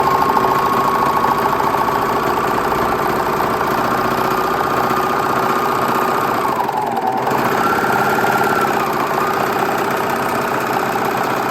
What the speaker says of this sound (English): I'm just gonna serge off about 1/4 inch.